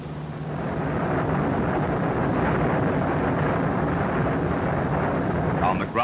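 A test airplane roars steadily as it takes off and climbs, a loud, continuous broadband engine and wind rush that holds nearly level throughout, with brief higher tonal sweeps near the end.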